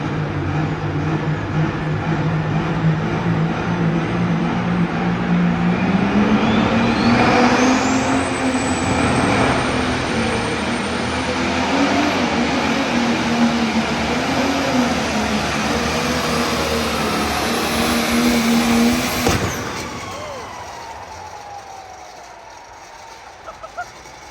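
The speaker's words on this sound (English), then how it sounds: "I'll actually insert a video from last year of us pulling here" A New Holland T8 pro stock tractor roars loudly at a tractor pull, its turbocharged engine droning steadily with a rising whine before cutting off abruptly near the end, leaving a quieter rumble.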